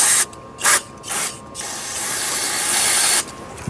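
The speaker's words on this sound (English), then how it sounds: "Let me grab some brake clean and clean the switch." Aerosol can of brake cleaner spraying onto an electrical switch on a Honda Element, several short hissing bursts followed by one long steady spray, loud and close with no talking.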